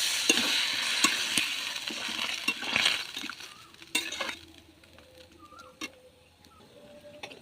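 Fish curry with potatoes and tilapia sizzles loudly in a pan as water goes in, then fades to a quieter simmer, broken by scraping stirs and sharp metal clinks of a spoon against the pot.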